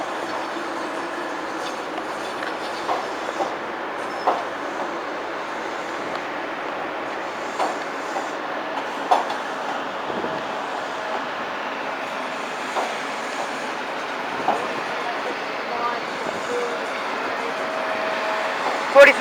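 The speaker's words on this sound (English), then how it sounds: "Pretty sure there's a Corby train down there." A train at London St Pancras International station, heard as a broad, continuous rumble of engines and station noise with scattered clanks and knocks throughout.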